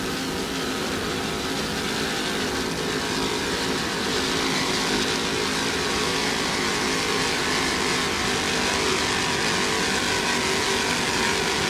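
Racing powerboat driven by two 800 horsepower engines at an offshore race, a steady loud roar of engines and rushing water held at constant intensity throughout.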